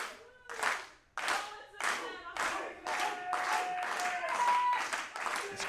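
A wrestling crowd at a TWE women's match claps in a steady rhythmic beat, roughly two claps per second, loud and close, with a commentator talking faintly underneath.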